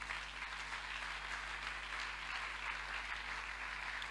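A church congregation claps in sustained, dense applause that stays steady and fairly distant, and no other sound stands out.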